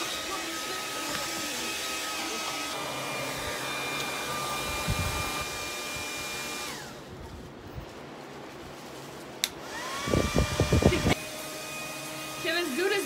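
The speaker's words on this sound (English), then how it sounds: "Pulls out a motherfucking dryer." A hair dryer whirs steadily with a tonal whine, cuts out midway, then restarts with a rising pitch and runs again, with some handling noise around it.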